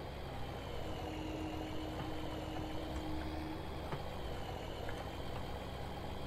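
Tractor engine idling in Farming Simulator, a steady low drone with a faint hum running unchanged throughout, moderately quiet with no talk.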